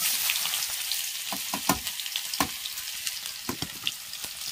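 Onions fry in a pan with hot oil, giving a close, even sizzle dotted with sharp crackling pops scattered throughout.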